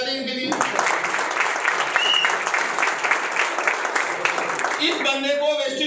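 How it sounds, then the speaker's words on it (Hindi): An indoor audience at a business success talk breaks into sustained applause, a dense wash of many hands clapping for several seconds, with a speaking voice heard briefly before and after. "ताली बजा दें इनके लिए"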